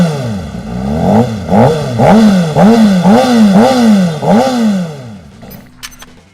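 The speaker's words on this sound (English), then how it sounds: "let's hear the sound of the CBR600RR, fitted with an akrapovic exhaust." A Honda CBR600RR motorcycle with an Akrapovic exhaust revs hard in a rapid series of about eight sharp, rising blips, loud and close, before settling to a lower idle.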